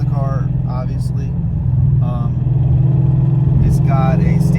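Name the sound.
Ford Coyote engine revving, stage 3 clutch car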